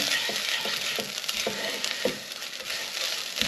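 Chipotle turkey meatball mixture stirred in a hot pan, a steady quiet sizzle broken by repeated soft scraping strokes of a spoon, close and without speech.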